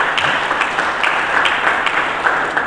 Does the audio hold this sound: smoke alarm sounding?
no